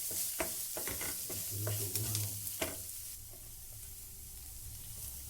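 Ginger sautés in a pan: a few seconds of clattering stirring knocks over a soft sizzle, then just the quieter frying hiss continues on its own.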